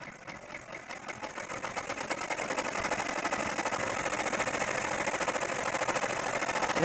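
A home embroidery machine stitches a butterfly's body and antenna in a fast, steady, whirring needle rhythm that grows slightly louder and continues unbroken at close range.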